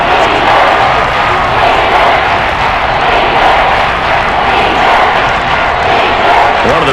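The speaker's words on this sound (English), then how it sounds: "the crowd getting into it as we come up on a big 3rd down" Stadium crowd roar in Madden NFL 23 during an Arizona Cardinals vs Carolina Panthers game, a steady loud wash of cheering and noise swelling ahead of a big third down, continuous with no pauses.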